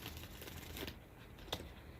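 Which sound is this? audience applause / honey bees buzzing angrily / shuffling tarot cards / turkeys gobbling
shuffling tarot cards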